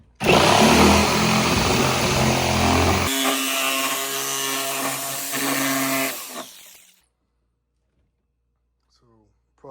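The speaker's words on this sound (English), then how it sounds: "I'm gonna get this jigsaw a shot, see what we get" A jigsaw saws through wood, a loud, dense buzzing roar that runs steadily for about six seconds with a shift in pitch partway through, then cuts off into near silence.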